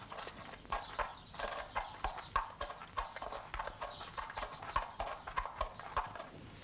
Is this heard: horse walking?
yes